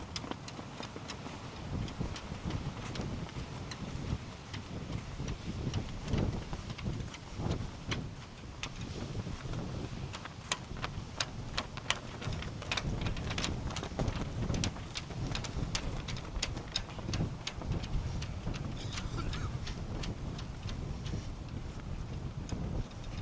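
Strong tropical storm wind buffeting the microphone, a continuous heavy roaring rumble with gusty surges and crackling bursts throughout, loud and close with no talking.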